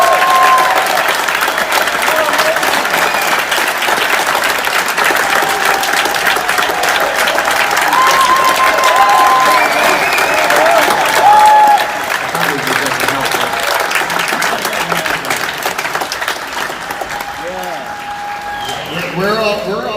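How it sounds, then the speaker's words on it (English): A live audience applauds and cheers for Bob Lazar, steady dense clapping from a large crowd lasting about twenty seconds before tapering slightly, with a voice speaking over it near the end. "give Bob Lazar a hand."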